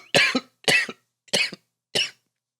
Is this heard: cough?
yes